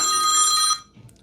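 A telephone rings again in a radio studio during a banking interview, one loud sustained electronic ring that cuts off abruptly, followed by faint room sound.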